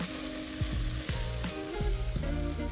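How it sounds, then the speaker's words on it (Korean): Onion wedges stir-frying in a hot pan until lightly golden give a steady sizzle throughout, broken by several scraping stirs at a fairly even pace. "노릇노릇하게 색이 살짝만 나도록 볶아줄 거예요."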